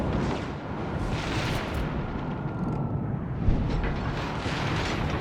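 A naval gun salvo from the warship Cataluña in a video game roars as a continuous rumbling barrage with one stronger thump near the middle, loud and close throughout.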